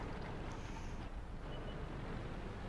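The engine of the Achilles tank in World of Tanks gives a steady, low, broadband rumble with a clanking edge, faint and unbroken throughout.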